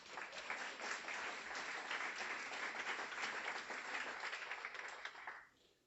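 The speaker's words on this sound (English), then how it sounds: "A warm round of applause for John and Lynn." Steady applause from a graduation audience, many hands clapping continuously and fairly evenly before tapering off at the end.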